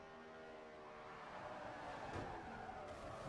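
A NASCAR-style race car in Forza Motorsport 4 drifts on the track: a steady, droning engine tone with skidding tire noise, fairly faint and continuous, with no voices.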